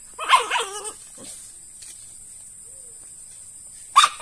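Farm dog giving a few short barks and yips at the start, then quiet, with one more sharp bark near the end.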